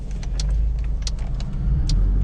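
A Ford Mustang is heard as a deep, steady low-pitched engine rumble close by, with a few faint higher ticks over the drone and no voices.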